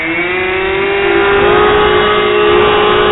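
Electric motor of an RC F4F Fun-Fighter plane on a 2-cell battery, spinning up at launch throttle: a loud, steady, close whine with a strong tone that swells slightly and holds, with no talking.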